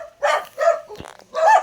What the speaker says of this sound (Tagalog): maingay po yung mga aso